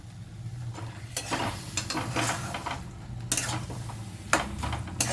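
Pav bhaji masala being stirred in a pan, a spoon repeatedly scraping and clacking against the metal at an irregular pace over a soft background hum; no talking.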